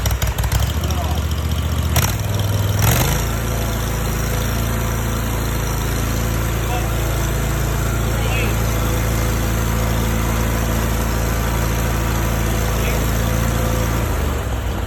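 A warm riding lawn mower engine cranks and restarts without choke, catching after a brief starter burst, then running at a steady, loud idle up close for the rest of the time.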